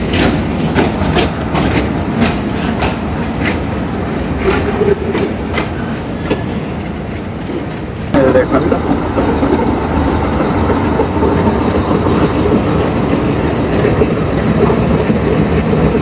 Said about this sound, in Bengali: এই ট্রেনটা এই মাত্র আসলো